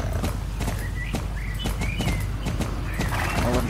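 Horse hooves clip-clop steadily in Star Stable, with snorts and a brief whinny over continuous ambient game music and faint birdsong.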